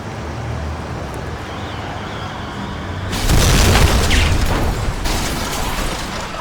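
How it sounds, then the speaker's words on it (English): A truck slams into a limousine in the video game Kane & Lynch 2: after a steady low ambient rumble, a sudden loud crash bursts in with a heavy booming impact and crunching debris that stays loud and rough to the end. "the limousine gets crashed into by a truck"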